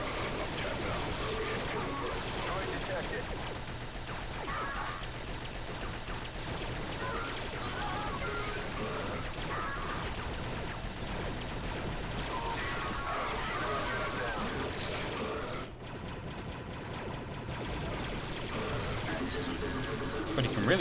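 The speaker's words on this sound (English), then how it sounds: "But he can really throw grenades far in this game" Continuous gunfire and grenade blasts from the shooter game Star Wars: Republic Commando form a dense, loud barrage of shots and crashes, with talking over the top throughout.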